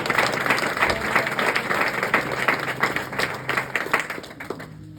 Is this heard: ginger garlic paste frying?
no